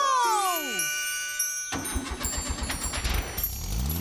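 A cartoon car engine in a children's animated fairy tale magically starts up after a rising whistle-like flourish, then runs with a steady rattling, sputtering idle close and loud, with no talk over it.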